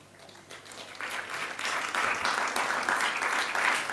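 Audience applause at a Hindu temple discourse on the Srimad Bhagavatam starts modestly and swells into full, steady clapping from a large crowd, filling the space until the end.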